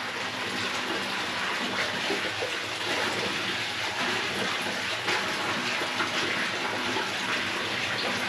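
Continuous rushing of hot spring water pouring into a pool at the Demchok hot springs in Ladakh, a dense, steady gush with no pauses and no voices.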